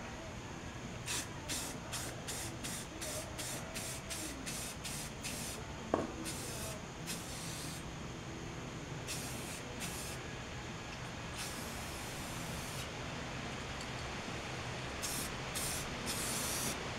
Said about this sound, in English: We're ready to put the first coat of clear on the wheels.